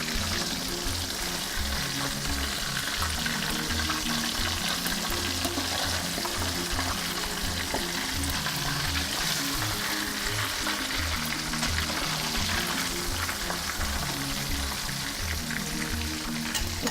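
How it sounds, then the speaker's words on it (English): Turmeric-coated fish fries in a hot pan with a loud, steady sizzle and crackle that runs unbroken throughout, close up and with no talking. "Fish is very delicate, doesn't take long to fry."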